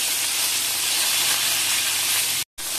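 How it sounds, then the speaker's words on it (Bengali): Brinjal pieces fry in hot oil in a kadai, making a loud, steady, close sizzling hiss that drops out briefly near the end. "লাল লাল করে ভেজে নিচ্ছি বেগুনটা"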